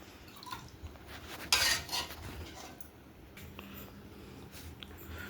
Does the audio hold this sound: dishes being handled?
yes